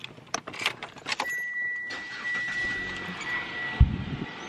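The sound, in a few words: car engine being started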